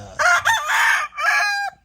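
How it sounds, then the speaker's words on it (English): A rooster crows loudly and close by, one drawn-out call broken into a few rising and falling segments, with no talking. "I just try to get the chickens, roosters jumping and striking"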